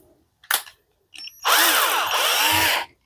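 A power drill fitted with a small bit, used while installing a miniature circuit breaker box: two short bursts, then a loud, steady high whine that runs about a second and a half before stopping.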